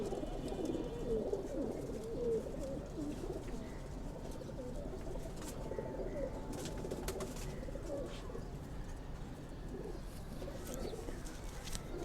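Pigeons coo softly and repeatedly nearby in a home loft, low rolling calls continuing steadily with faint background noise.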